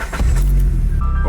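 A Nissan 300ZX drift car pulling away on a test drive, its engine a loud, close, low rumbling drone that holds steady through the brief moment.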